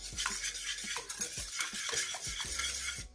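A utensil scrapes and taps rhythmically around a bowl while stirring egg and sugar, quick repeated strokes of mixing heard up close with no talking.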